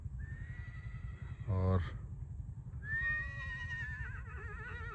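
A mare in gait training gives a loud, wavering whinny, then a second drawn-out neigh, over steady low background noise, with someone speaking briefly.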